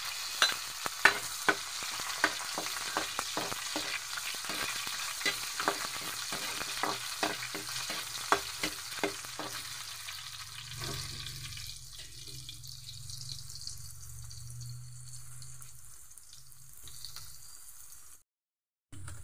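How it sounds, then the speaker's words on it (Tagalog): Garlic and onion sautéing in oil for pork with vegetables, a low sizzle punctuated by rapid, regular spatula scrapes and taps for about ten seconds, after which the stirring stops and a quieter steady hiss and hum remain. "Ating mantika, magsimula na tayo sa gisa. Bawang, susunod natin yung ating sibuyas."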